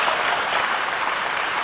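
Sustained audience applause at a mushaira poetry recital, a dense, steady wash of clapping from a large crowd with no break and no talk over it.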